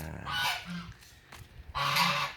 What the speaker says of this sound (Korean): 저기 상큼이하고 오리 박순이가 보이네요